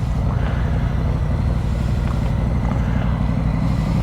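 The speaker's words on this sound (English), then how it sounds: "I've just started my engine up." A BMW or Harley-Davidson motorcycle engine idles steadily on a winter ride, a low continuous rumble at moderate level with no talking.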